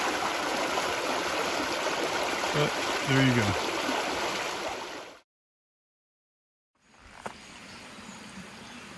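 Creek along the Appalachian Trail rushing in a steady, close, full wash of flowing water; someone speaks briefly over it, then the sound cuts out for about two seconds before the water resumes.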